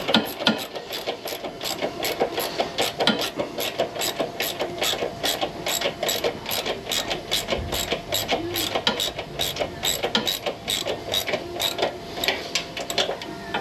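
Bolt being snugged down on a 1984 Harley-Davidson FLT that sat for twenty years, giving a steady run of rapid ratchet clicks close by, continuous and fairly loud with no talking.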